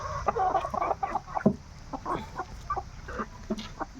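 A country rooster clucks in short, irregular bursts close by at a poultry farm, with soft rustling in the background and no talking.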